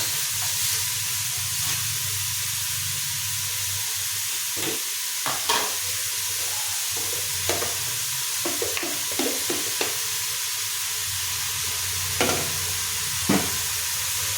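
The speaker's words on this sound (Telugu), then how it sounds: "మటన్ వేస్తున్నాం. ఒకసారి కలిపేసి అల్లం పెట్టేసి ఒకసారి కలిపి" Mutton pieces and ginger sizzle steadily in AMC cookware, with repeated scraping stir strokes clattering through the close, continuous frying hiss; no one speaks.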